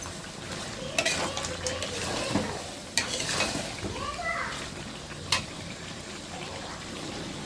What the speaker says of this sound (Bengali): আলু দিয়ে ভালো করে আবার একটু কষাই নিব আলুটা